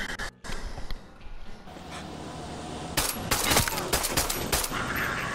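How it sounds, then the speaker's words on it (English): Sniper rifle gunfire in the shooter game Far Cry 6, several sharp loud shots cracking in a cluster over ambient game sound, with a brief earlier burst. "Damn, I sniped the shit out of them."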